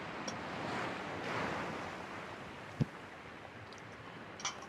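Ocean waves wash steadily against a coastline along a highway in the video game The Long Dark, a soft continuous surf mixed with faint wind, with one brief knock partway through.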